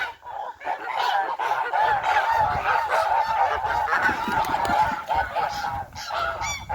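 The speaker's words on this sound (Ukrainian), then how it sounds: "Ось такий табунчик гусей." A flock of geese honks loudly and continuously, many overlapping calls close by.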